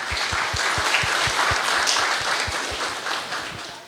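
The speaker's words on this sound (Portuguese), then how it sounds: "Salva de palmas para os nossos vovôs." Audience applause for the grandparents during a Catholic Mass at a sanctuary of Our Lady of Częstochowa, steady dense clapping from a crowd filling the whole stretch, with rhythmic low thumps running underneath.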